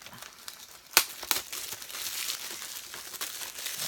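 Plastic wrap is crinkled and torn off a Blu-ray/DVD combo film case, with a sharp crackle near the start, another crinkle shortly after, then continuous soft rustling and crumpling close by, without talk.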